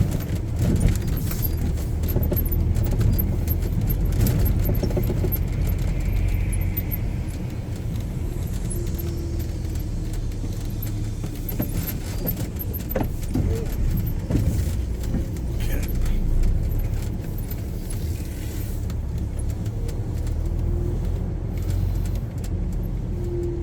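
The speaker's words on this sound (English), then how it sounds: "we are just repositioning the truck so we can see what's going on" A truck rolls slowly across a scrapyard littered with loose scrap metal, its engine rumbling steadily while metal clanks and rattles in bursts throughout.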